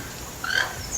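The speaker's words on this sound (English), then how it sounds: "it sounds like a strange mixture of a cackle and the croaking of a frog with a cold" A toucan gives a harsh call that mixes a cackle with a froglike croak, one short raspy burst in the middle of a quiet moment, moderately close and heard alone.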